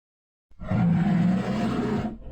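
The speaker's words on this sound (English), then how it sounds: "I'm just going to use a bear roaring for this one" A deep, growling bear roar, used as a jump-scare effect in a Roblox Piggy build-mode game, bursts in loud and sustained for about a second and a half after a moment of silence, then cuts off.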